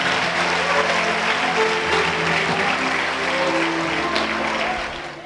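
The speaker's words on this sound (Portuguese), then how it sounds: "E os que podem, tomem seu assento aplaudindo a Jesus" Church congregation applauding during a night vigil service in São Paulo, steady dense clapping throughout with sustained crowd noise and some voices mixed in beneath.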